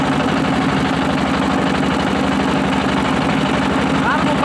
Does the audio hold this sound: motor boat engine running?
yes